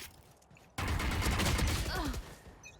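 Origin Vandal rifle gunfire in Valorant, a sudden loud burst of rapid shots that keeps up as one dense stream of fire for about two seconds, then tails off, with a quiet lead-in beforehand.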